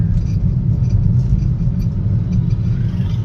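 Inside a car on a busy single-lane road with vehicles moving both ways, a loud, steady low rumble of engine and tyres fills the cabin, with no distinct pass-bys standing out.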